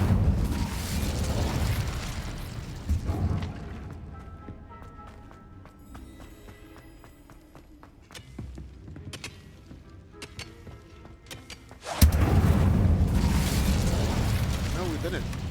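Incendio fire spell blasting in Hogwarts Legacy inside a cave, a loud roaring burst that fades into a quieter stretch of game ambience before a second heavy whoosh at the end, with voices talking at times.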